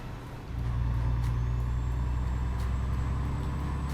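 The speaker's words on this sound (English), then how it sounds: "The L6 and the V8 will sound stock or generic." Stock generic diesel engine of a truck in Euro Truck Simulator 2, a steady loud low drone that swells up after a quiet first half-second and then holds an even idle rumble, with no talk.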